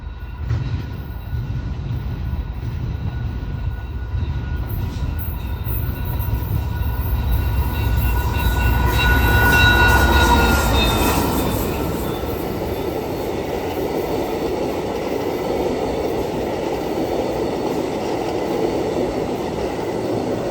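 A passenger train made up of a Via set with an EXO Charger locomotive at the rear rolls past at Sarnia, with a steady loud rumble of wheels on rail and squealing tones peaking midway.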